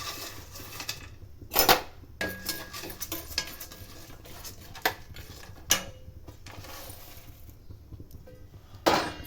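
Mixed nuts frying in ghee in a pan, heard mostly as scattered close clinks and scrapes of stirring against the metal, with quiet stretches between the louder knocks.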